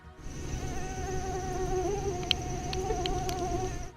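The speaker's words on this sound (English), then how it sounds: "the largest mosquitoes in the world are found in Alaska" Alaskan mosquitoes buzz in a steady, continuous whine that stays close and fairly quiet throughout, with a few faint clicks partway through and no voices.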